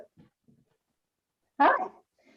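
A dog gives one loud, close bark after a couple of faint, muffled sounds, then the room goes quiet again.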